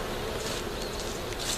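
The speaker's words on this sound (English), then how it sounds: "I just made some bees extremely upset with me." Agitated honeybees at a backyard hive with a honey box buzz in a dense, continuous drone, close and steady without any voices.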